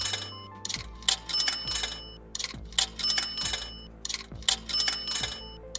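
A stream tip alert chimes repeatedly, a run of bright bell-like dings and jingles recurring every second or so over a low repeating thump, fairly loud with no talk.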